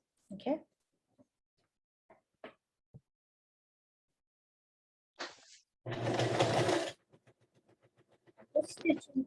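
A sewing machine stitches fabric for a zippered pouch in one loud, dense burst of about a second, with soft clicks and handling noises around it and brief bits of quiet talk.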